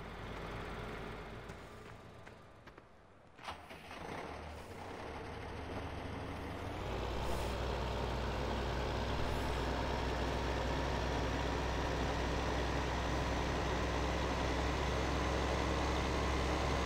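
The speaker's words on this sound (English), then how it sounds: "let me know if these tractors are too loud" Tractor engines from the Farming Simulator 15 video game on the Sosnovka map during a barley harvest: a low, steady droning rumble, quieter at first, then swelling into a constant loud hum from about seven seconds on.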